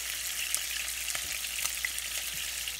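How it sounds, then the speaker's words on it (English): Rainbow trout fry in a pan with a continuous, even hiss and crackle, close and steady, with a few faint pops and no talking. "you want to cook it about 4 minutes, 4 to 5 minutes on one side"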